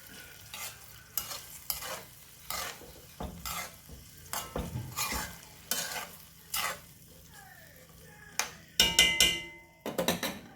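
Food stirred and frying in a pot gives repeated scraping strokes of a spoon against metal over a low sizzle, in uneven bursts, with a few louder clattering scrapes near the end.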